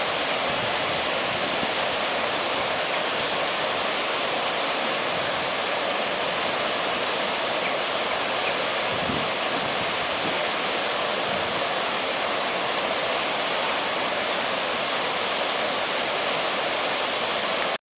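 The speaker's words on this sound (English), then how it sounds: "This is the Bain Bridge Hydroelectric Scheme on the River Bain in Wensleydale, North Yorkshire." Water pouring steadily through an Archimedes screw hydroelectric scheme on the River Bain at Bainbridge in Wensleydale, North Yorkshire, with a 26-foot screw driving a 45 kW generator; a constant, loud, dense rush of falling water with no talking.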